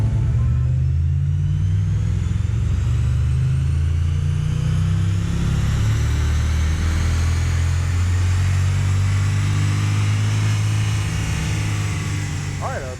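A 2018 Jeep SRT running on a dyno for baseline power numbers, a loud, steady low engine drone held throughout with little change in pitch.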